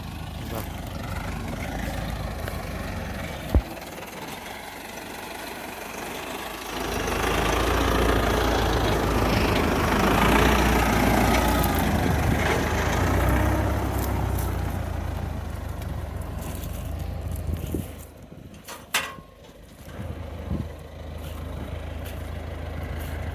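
A T-4 crawler tractor engine runs steadily during a potato harvest, a loud continuous low rumble that swells after a few seconds and holds, with brief knocks and dips near the end.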